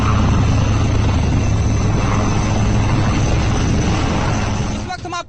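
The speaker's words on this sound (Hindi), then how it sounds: "आसमान में गरजता रुद्र हेलीकॉप्टर" Indian Army ALH Rudra helicopter flying overhead during a military exercise with tanks and mortars: a loud, steady rotor and engine roar with low throbbing, continuous for several seconds before easing slightly at the end.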